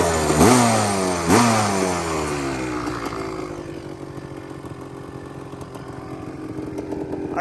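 Rebuilt Yamaha Tri-Z three-wheeler two-stroke engine blips twice with sharp revs, then drops to a buzzing, slightly uneven idle heard up close.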